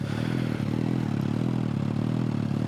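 A 2016 Suzuki GSX-S1000 motorcycle with stock exhaust idles steadily nearby, a fast even mechanical chatter with a light rattle running through it.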